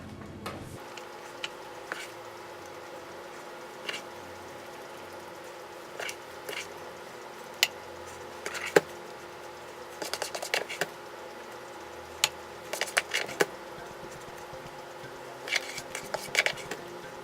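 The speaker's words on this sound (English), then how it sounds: "Once the batter is at a thick texture, it is ready to be put into the muffin tin." Thick chocolate chunk muffin batter spooned into a muffin tin, heard as sparse light clicks and metallic taps of a spoon against the tin, scattered irregularly over a quiet room background.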